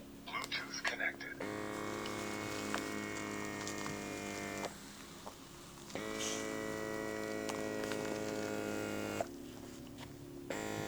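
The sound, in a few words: eye therapy mask running with air pressure and heat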